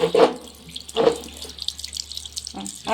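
Household tap water runs steadily into a sink during morning tooth brushing, a close, continuous splashing hiss with a few brief surges and no talk.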